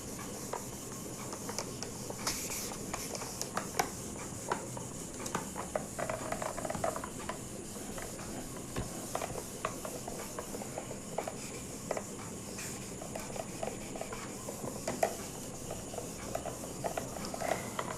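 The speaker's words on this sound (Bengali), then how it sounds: "আমি কিন্তু মুছে দিচ্ছি।" Writing is wiped off a board with repeated soft rubbing and scraping strokes, faint and close, with irregular small squeaks and scuffs and no talking.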